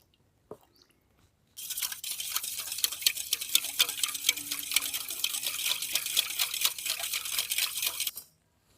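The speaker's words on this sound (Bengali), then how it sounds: "এবার এই চিনিটাকে দুধের সঙ্গে ভালো করে মিশিয়ে দেবো।" Sugar is stirred into milk for an eggless zebra cake batter, a close, steady scraping and swishing of a spoon against the bowl that runs for about seven seconds after a single knock.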